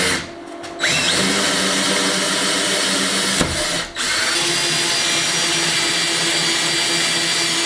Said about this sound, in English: Right, so I got all my holes drilled